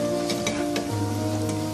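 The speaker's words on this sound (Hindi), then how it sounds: "दरमियानी आंच के ऊपर इसको नाइस गोल्डन कलर में फ्राई कर लेंगे।" Chicken nuggets frying in oil over medium heat, a steady close sizzle with soft crackling pops and a low hum beneath, no voices.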